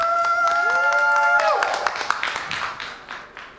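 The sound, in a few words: audience applause in a dance show studio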